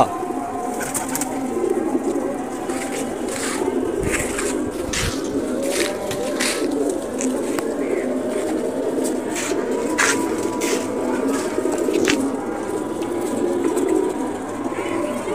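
Pigeons coo steadily in a home loft where the birds have just been released, soft repeated low calls layered together, with scattered wing flaps and scrapes throughout.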